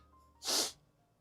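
A single short, breathy nasal sniffle lasting under half a second, close and fairly loud, against a quiet background.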